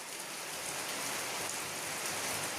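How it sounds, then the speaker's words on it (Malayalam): Heavy rain falls in a steady, dense hiss and patter on surfaces, loud and unbroken throughout with no voices. "നല്ല മഴയാ"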